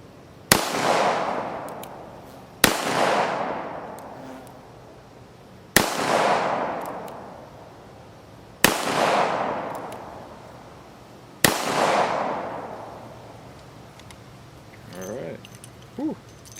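Ruger SP101 .357 revolver firing Remington UMC .38 full metal jacket rounds at 15 yards outdoors, five loud, sharp shots spaced a few seconds apart, each with a decaying echo, followed by faint rustling.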